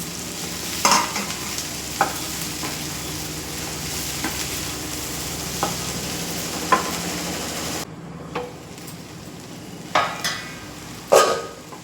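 Peas frying in a pan for aloo curry, a continuous sizzle close by with a few sharp spatula scrapes and knocks against the pan.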